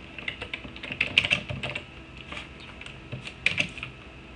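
Close, crisp keystrokes on a computer keyboard as a comment is typed, coming in uneven clusters of taps with short pauses between bursts.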